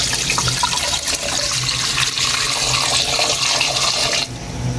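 Water pours steadily and loudly from a drum into a cooking pot holding pork hock for humba, a broad continuous splashing rush that cuts off sharply near the end.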